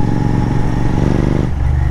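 A loud Royal Enfield Continental GT 650 motorcycle engine revving close by, a deep throaty rumble that dips slightly toward the end, with no talking.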